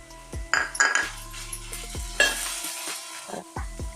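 A spoon stirs salt and spices into dry prawn curry in a pan, giving close scraping and clinking strokes over a faint sizzle, with no voices.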